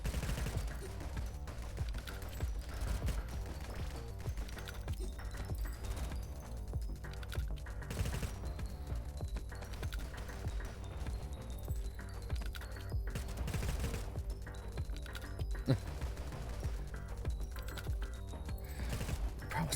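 Rapid, continuous gunfire from homing bullets in the video game Nimrods, a dense stream of overlapping shots held at low volume beneath game music throughout.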